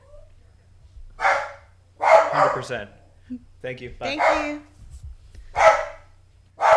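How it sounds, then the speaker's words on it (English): A dog at home barks excitedly at a delivery arriving at the door, sharp close yaps coming in several bursts about a second apart, mixed with people briefly talking. "My dog is freaking out."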